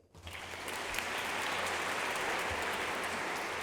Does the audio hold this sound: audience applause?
yes